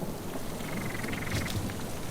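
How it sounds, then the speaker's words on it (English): Heavy summer rain pours down steadily in the wild, a dense, even hiss with a faint distant rumble underneath and a brief chirping call mixed in. "heavy summer rain is set to break 12 years of drought"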